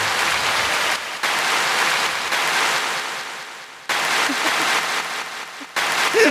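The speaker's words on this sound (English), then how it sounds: "go ahead and give me a reverbed clap" A soundboard clap drop with heavy reverb fires several times, each burst a broad wash of clapping noise that swells and decays into a long echoing tail, loud and close, with brief cuts between repeats.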